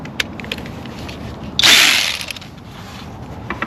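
A 10mm socket ratchet with a swivel works a bolt near the ignition coils of a 2011–2023 Dodge Charger 3.6 L engine, giving one brief loud burst of rapid ratcheting clicks amid quieter handling noises.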